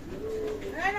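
A Chinese teddy pigeon gives one short, close coo that swells and rises in pitch near its end.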